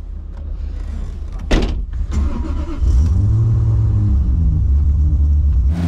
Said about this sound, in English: Big Supra slipping the clutch, flooring it, trying to go eighth kind of guy right here